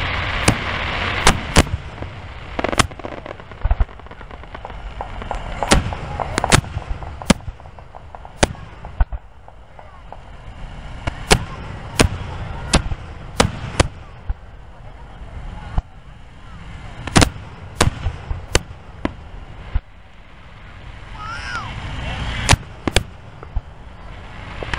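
Fireworks at the 2023 Star Spangled Spectacular in Lima, Ohio, with sharp bangs and crackling bursts going off in irregular clusters over a steady crowd murmur throughout.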